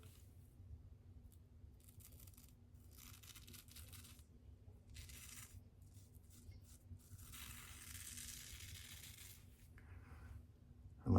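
Clippers or a trimmer cut through a long goatee grown out for over six months, giving a steady soft buzzing hum with crisp, crunching, rustling bursts as thick hair is sheared away, close and alone with no talk.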